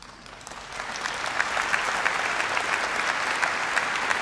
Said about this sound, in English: Worthy of a clap.